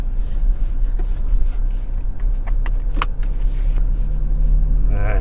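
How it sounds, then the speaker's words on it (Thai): 2017 Toyota Revo E pickup setting off on a test drive toward a main road, low engine and road rumble with brief clicks and rattles inside the cab, someone talking over it. "เดี๋ยวไป สู่ถนนใหญ่ก่อนนะครับ เดี๋ยวพาลองขับ"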